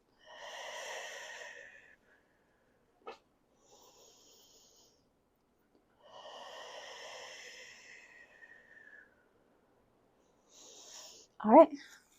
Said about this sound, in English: Give me 2 more deep breaths here.